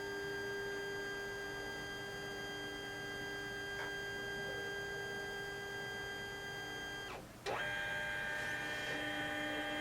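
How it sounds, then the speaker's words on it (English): Steady mechanical hum with a whining motor tone from a Brother MFC-J491DW printer scanning a page runs throughout, briefly dipping near the end before resuming, like a machine sweeping across a page. "I'll wait for the printer to scan the second page."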